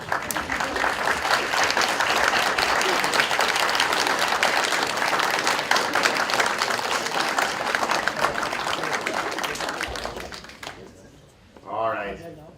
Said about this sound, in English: turn to your families and give those families a well-deserved round of applause